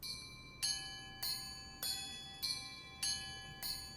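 Bright bell tones in a Christmas music track strike in a steady offbeat pattern, six evenly spaced hits with ringing overtones, clear and moderately loud against a quiet background.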